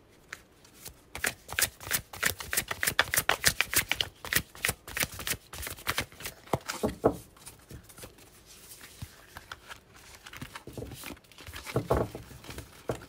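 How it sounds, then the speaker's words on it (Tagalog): Tarot cards are shuffled repeatedly at close range, quick papery riffles and soft slaps coming in bursts, with no one speaking. "Balasahin natin ang gusto ng ating baraha."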